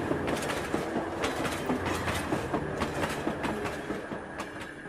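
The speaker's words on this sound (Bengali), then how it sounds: "ঘণ্টাখানেক পরে আবার একটা ট্রেন এলো রামপুর হাটের দিকে।" A passenger train pulls into a station on the line toward Rampurhat at night, its wheels beating a steady, loud clickety-clack over the rail joints for the whole stretch, with no voices.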